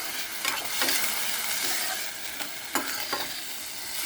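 Soaked moth beans stirred and frying in a pan, steady sizzle with repeated scraping strokes of the spoon, close and alone with no talk.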